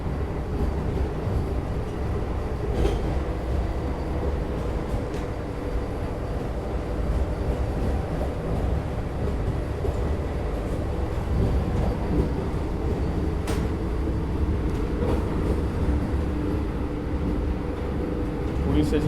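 Interior of the Mysore–Chennai Vande Bharat Express in business class near Bangalore, a steady rumbling ride with constant low roar and occasional clicks from the track, no talk.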